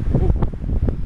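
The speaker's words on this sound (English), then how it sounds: "ooh, bit of wind, can't help that." Wind buffeting a microphone outdoors beside a lime green MG convertible, a steady low rumble of gusts filling the whole short moment.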